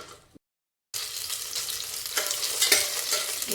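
Torn green chillies dropped into hot oil for coconut chutney set off a loud, steady sizzle and crackle after a brief silence, with pops and spatters rising toward the end.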